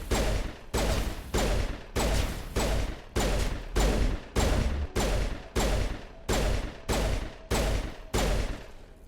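Pistol fire in Mass Effect comes as a steady series of about a dozen loud, evenly spaced shots, each with a short decaying tail, close and alone without talk.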